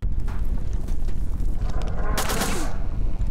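Rapid gunfire from an enemy shooting downrange in the video game Revenance, a dense, continuous barrage of loud shots with a sharper burst near the end.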